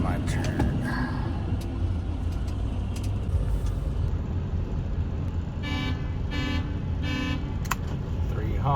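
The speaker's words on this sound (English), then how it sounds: "3 honks, I gotta back up." A truck horn at a port sounds three evenly spaced, loud honks over a constant engine rumble, and voices can be heard in the cab.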